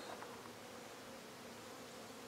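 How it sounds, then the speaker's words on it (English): Steady, continuous insect buzzing, a dense drone of many bees or wasps at a nest in a tree fork in Savernake Forest, moderately faint and unbroken throughout with no voices. "that's either a bee's nest or a wasp's nest"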